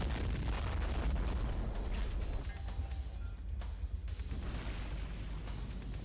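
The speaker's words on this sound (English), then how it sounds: "Look at them explosions." Battlefield explosions in the war strategy game Sudden Strike 3, deep rumbling booms that roll one into the next and then fade, heavy and low throughout.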